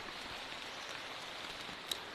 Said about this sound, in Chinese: 我好家伙呀，刚刚盖好就下雨来了。